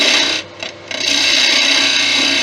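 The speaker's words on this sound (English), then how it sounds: "Now I'm going to cut in the branches, so speed up a bit. And I'm using the detail gouge for doing this." A detail gouge shears into spinning teak on a wood lathe, a bright hissing scrape with a brief dip in the cut before it bites again, steady and close.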